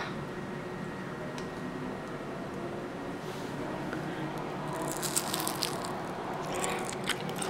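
Crispy food bitten and chewed near the mouth, soft crunching and moist squishing that grows into a brighter crackling burst, with no talk.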